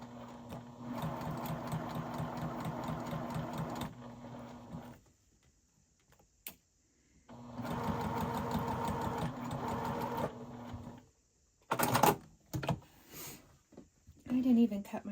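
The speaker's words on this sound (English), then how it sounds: "Going to just try to stitch right down the center of the rickrack." A sewing machine stitches down the center of rickrack trim in steady whirring bursts, two long runs of a few seconds each with pauses between them and scattered handling clicks near the end.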